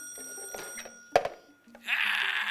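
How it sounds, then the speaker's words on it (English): A phone ringing indoors, a bright electronic trill that starts partway through and continues steadily, loud and close, after a few quieter tones and a short knock. "I think my phone is ringing."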